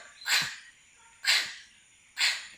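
Three harsh, breathy gasps from chickens with chronic respiratory disease come about a second apart, each a sharp rasping rush of air followed by quiet.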